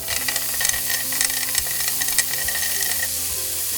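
Peas for egg fried rice cooking in a hot pan, giving a steady, close sizzle and hiss with faint stirring scrapes and small pops throughout, with no talking.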